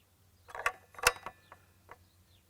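A plastic dust collection fitting is twisted snug by hand, giving a few close creaking, ratcheting clicks in short irregular bursts over about two seconds.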